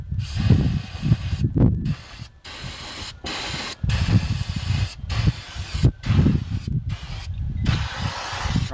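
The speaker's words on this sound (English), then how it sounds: "Some brake cleaner." Aerosol brake cleaner hissing onto front brake parts of a 1997 Chevy Blazer, a series of close, loud spray bursts in irregular pulses separated by short silent gaps.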